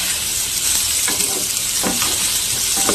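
Potatoes and pointed gourd sizzle in hot oil in a pan, a dense continuous hiss close by, with a few soft scrapes of stirring.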